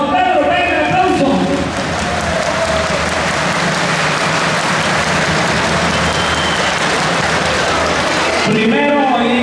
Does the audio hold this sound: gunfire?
no